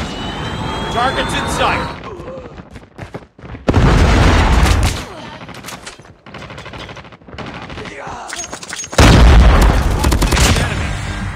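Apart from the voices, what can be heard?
Predator missile strike in video game Call of Duty: Mobile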